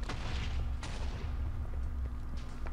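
A wither boss attacking in Minecraft's Nether gives off deep booming blasts, a heavy rumble with sharp explosive hits near the start and around the one-second mark, loud and close.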